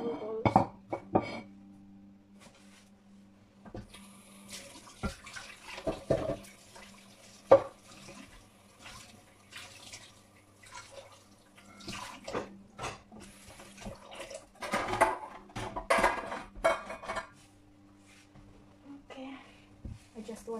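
Kitchen tap running while hands are washed, intermittent splashing bursts of water between quieter stretches, close, with occasional coughs and a voice speaking in between.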